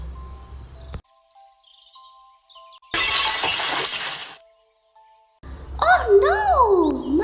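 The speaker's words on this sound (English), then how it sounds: "It fell onto the floor with a bang, breaking into tiny pieces." A vase falls and shatters on the floor, a single loud crashing burst of breaking glassy fragments, with quieter clinks and a cartoonish whistling tone before and after.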